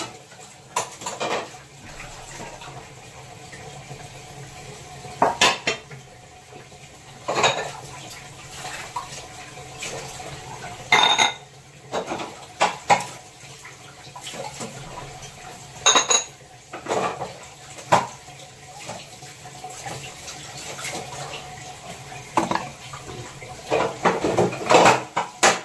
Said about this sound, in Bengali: বাসন মাজা আমার কমপ্লিট হয়ে গেল